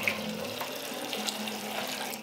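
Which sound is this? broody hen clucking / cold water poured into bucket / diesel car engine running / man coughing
cold water poured into bucket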